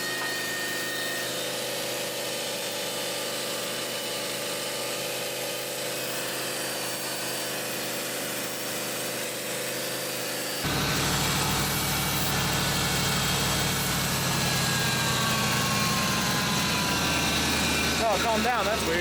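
A Ford Bronco's engine idles at a raised, constant speed, close by, with a louder mechanical whir joining halfway through.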